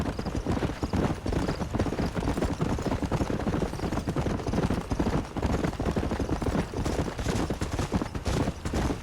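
Horse hooves galloping in Red Dead Redemption: a fast, steady clip-clop of hoofbeats, loud and close, running continuously throughout with no talk over it.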